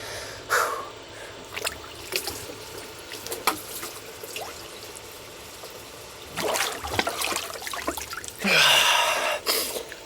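Someone lowers into a cold ice bath after a 14-mile training run, with scattered splashes and trickling water broken by sharp gasps and breathy exclamations, close and fairly quiet.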